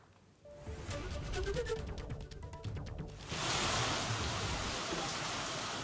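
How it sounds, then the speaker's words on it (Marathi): Heavy monsoon rain pours down in Gadchiroli, Maharashtra, in a dense hiss that swells louder partway through, with faint background sounds early on. "दुपारनंतर पुन्हा पावसाला सुरुवात झाली आहे।"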